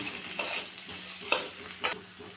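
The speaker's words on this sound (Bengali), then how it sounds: "এবার ভালো করে সব মিশিয়ে নেব" Spiced potato filling with chaat masala, pepper and coriander being stirred in a frying pan, a low steady sizzle broken by a few distinct scraping strokes of the spoon.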